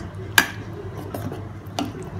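A spoon stirs sago payasam sweetened with jaggery in a pot, giving a sharp clink against the metal at the start and another later, with soft scraping in between and no voices.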